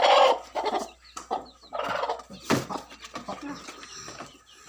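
A mother hen with her chicks clucks in short, uneven bursts close by, with a person talking at times alongside.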